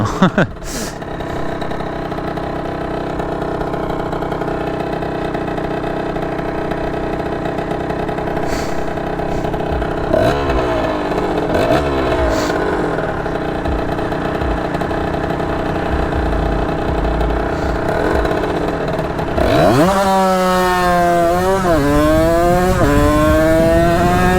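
A motorcycle engine idles steadily, then revs up sharply near the end with rising and falling pitch sweeps; voices can be heard faintly in the background.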